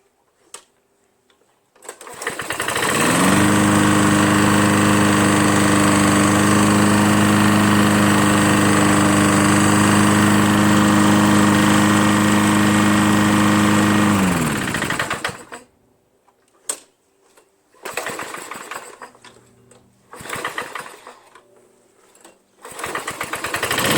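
A Lawn-Boy Insight 21-inch mower with a Tecumseh 6.5 engine, run with very little oil, starts and drones loudly and steadily at close range for about twelve seconds, then cuts off, followed by handling noises.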